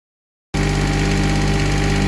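A new Kubota engine in a Kanga TD825 Maxi mini loader fires up after a short silence, then settles into a loud, steady, close idle with a mechanical knock.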